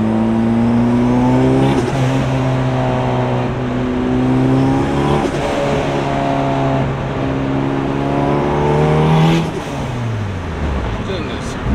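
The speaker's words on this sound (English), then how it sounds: "It's crazy how good a Turbo K sounds." Turbocharged Honda K-series car engine revving loud and close, with rising and falling harmonic pitch sweeps, repeated throttle blips, and a drop in pitch near the end; a voice talks faintly underneath.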